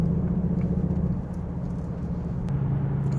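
A Cupra Formentor VZ with 310 PS driving on a country road toward the autobahn, heard from inside as a low, steady engine drone and road rumble at moderate level.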